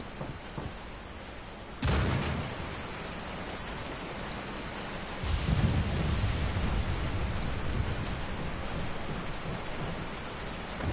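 Steady rain pours down and is joined by low rumbles of thunder in the video game Resident Evil 4. The storm swells loudly twice, each time surging and then settling into a heavy downpour.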